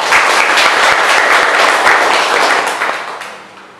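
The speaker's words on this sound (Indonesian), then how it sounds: "Mari kita berikan tepuk tangan kepada 3 pasangan calon." Audience applause for student council candidates at a vocational high school debate, a dense, steady burst of many hands clapping close by that fades out over the last second, with no voices over it.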